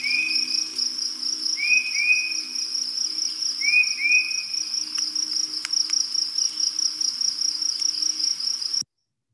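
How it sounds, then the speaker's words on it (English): Crickets trill continuously in the background of an outdoor bird recording, a steady high-pitched chirring throughout, while a bird repeats a short whistled call a few times. "There's some crickets in the background."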